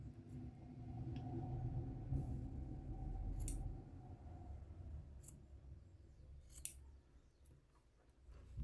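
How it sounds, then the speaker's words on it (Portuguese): Sharp scissors snip through crochet yarn at the bottom of a tassel, giving a few brief crisp cuts spaced several seconds apart over a low background hum, fairly faint and close. "Pra vocês verem como é bem afiada essa tesoura."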